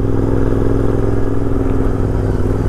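A GT 650 motorcycle rides a mountain road near Mussoorie, Uttarakhand, its engine a loud, steady low drone with wind rush throughout, no voices.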